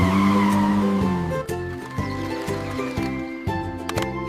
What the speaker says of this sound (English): This is a car!